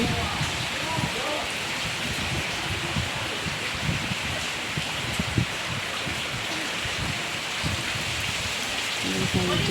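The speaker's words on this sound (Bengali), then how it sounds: "এরকম জল আর বৃষ্টিটা ভালোই পড়ছে" Heavy rain falls steadily outdoors in a dense, close patter on surfaces, with occasional heavier drips and a low rumble underneath.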